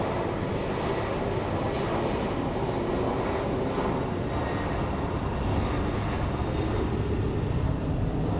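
Southwest airliner jet engines at full takeoff power at Phoenix Sky Harbor International Airport: a loud, continuous broadband roar with a steady rumble, sustained throughout without a break.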